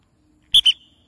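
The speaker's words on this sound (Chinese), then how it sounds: "我吹个哨子" A short double blast on a whistle during obedience training of a Shiba Inu dog, two quick loud shrill toots close by in otherwise quiet surroundings.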